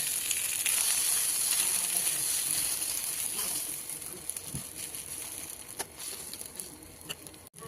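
Oats and vegetable egg omelette fries in ghee in a pan, giving a steady sizzling hiss that eases slightly over several seconds, with a few faint clicks and no talk.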